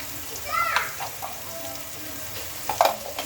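Garlic paste, ginger paste, salt and ground spices fry in hot oil, a soft continuous sizzle and crackle with occasional louder stirring scrapes and spits, fairly close but quiet.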